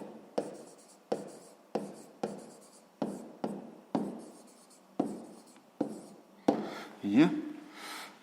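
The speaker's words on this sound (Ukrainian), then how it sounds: "То записуємо третє діє" A pen writing out a sixth-grade math solution on paper in about ten sharp, regular strokes, close and fairly loud, with brief speech near the end.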